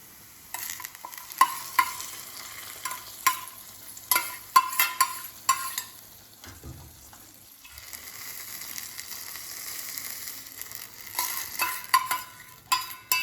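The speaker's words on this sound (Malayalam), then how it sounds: "വെളിച്ചെണ്ണ ഒഴിച്ചിട്ട് കടുക് പൊട്ടിച്ചിട്ട് പിന്നെ കുറച്ച് കറിവേപ്പിലയും ചെറിയ ഉള്ളിയാണ് ഇട്ടിരിക്കുന്നത്" Mustard seeds, curry leaves and small shallots frying in coconut oil for a prawn curry, giving a steady close sizzle broken by repeated sharp crackles and pops, with occasional stirring clatter and a quieter stretch midway.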